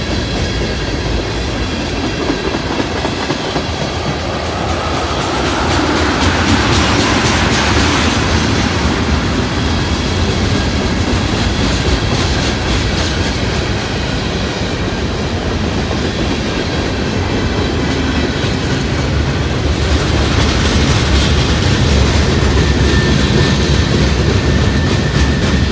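Freight train of boxcars rolling past on the rails, a steady loud rumble with rhythmic clickety-clack of wheels over joints and faint wheel squeal, close and continuous with no talk.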